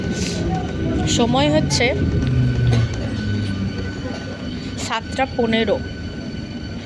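A passenger train rolls into a small local station on a cold evening, a broad steady rumble with squealing brake tones, while a person talks over it nearby.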